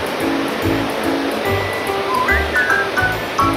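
Dampalit Falls, a waterfall beneath Mt. Makiling, roars as a steady close rush of falling water, with faint bird calls over the top.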